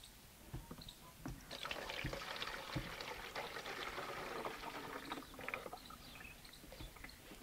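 One litre of neem leaf extract is poured into a 15-litre crop spray pump, making a faint, gurgling splash of liquid that fluctuates softly throughout, with no talk.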